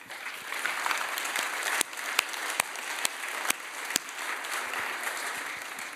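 Audience claps at the end of a tech talk event in a steady, moderately distant round of applause, with several sharper, louder claps standing out close by.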